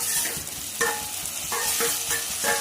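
Onions and tomatoes sautéing in oil in a pan for a homestyle fish curry, a steady close sizzle broken by a few scraping stirs of a spoon, with no talking.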